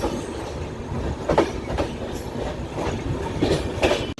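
A Howrah–Bikaner Superfast train at Parasnath station produces steady rail rumble with a few clattering wheel and coupling knocks, close and moderately loud, with no talk.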